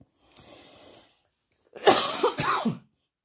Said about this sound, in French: vous risquez de m'entendre renifler peut-être un peu et tousser